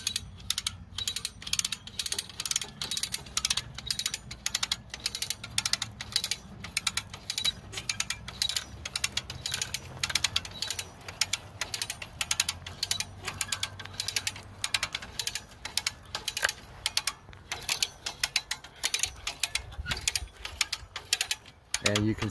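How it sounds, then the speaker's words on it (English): A ratchet fence stretcher cranks wire fence taut, giving rapid repeated metallic clicks in an uneven rhythm, close and fairly loud, with a faint low hum underneath. "just get it close to the posts and just start cranking"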